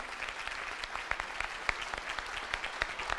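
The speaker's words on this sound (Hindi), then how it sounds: "एक बार जोरदार ताली बजा दीजिए।" A crowd claps steadily, a dense patter of applause from many hands indoors, moderately loud throughout.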